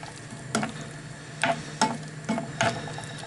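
Spinach pasta with cheese and spices being stirred in a pan, with five distinct scraping strokes over a faint steady sizzle.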